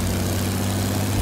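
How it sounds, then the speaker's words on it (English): Propeller plane engine from the Fortnite video game, a steady droning hum with a low rumble that holds at an even level for the whole moment, with no voices over it. "Let's go get a fresh plane."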